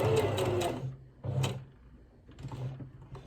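A sewing machine stitches bias binding onto the collar of a polka dot dress, running in three short bursts with brief pauses between them, fairly close and alone.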